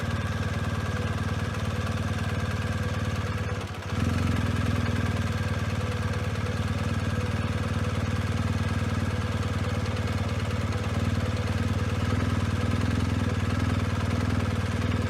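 Off-road motorcycle idling steadily at close range, a constant low engine drone with a brief dip around four seconds as the clutch is eased, then settling back into an even idle.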